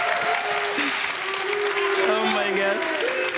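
A large esports crowd at an LEC Summer Season match between Excel and G2 Esports claps and cheers steadily, while someone speaks over the roar.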